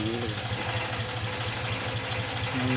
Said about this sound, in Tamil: இந்த இயந்திரத்தில் முதலில் மட்டைகளை அரைக்கிறோம்,